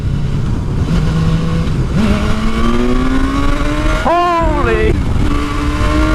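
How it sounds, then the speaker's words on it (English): A 2016 BMW S1000R naked sports motorcycle accelerates hard, its engine note climbing loudly through the revs with a sharp gear change midway before pulling on again; a rider briefly exclaims over the roar. "let's try an acceleration"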